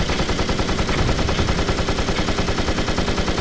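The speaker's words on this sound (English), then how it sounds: "Alright, let's start shooting." Machine guns in a World War I flight simulator firing without a break, a loud, dense rattle of rapid shots over steady engine drone.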